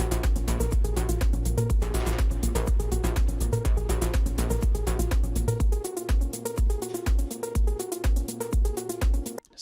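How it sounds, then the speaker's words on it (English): Electronic music with sidechain compression, the full mix ducking rhythmically under each kick so it pumps in a steady beat, loud and dense before thinning to punchy kicks near the end. "And with sidechaining, it sounds like this."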